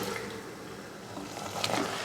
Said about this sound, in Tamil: நம்ம வேக வச்சோம் இல்லையா சுண்டலும் உருளைக்கிழங்கும், அதை தண்ணியோடையே இதில் சேர்த்துக்கலாம்